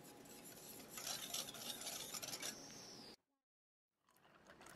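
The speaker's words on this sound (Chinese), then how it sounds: "搅拌混合。" Cornstarch and sugar being stirred together in a bowl, a close, continuous scraping rub that cuts off abruptly into silence, then resumes faintly.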